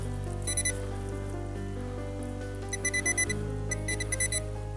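A metal detector sweeps the ground in autumn woods, sounding clusters of short, bright electronic beeps that pulse in quick groups over a low steady hum, with quiet gaps between bursts.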